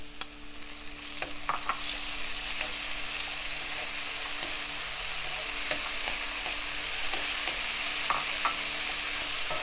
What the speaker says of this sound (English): Once the onion is cooked well, when it is slowly starting to turn into slightly brown, now we can add the chopped tomatoes.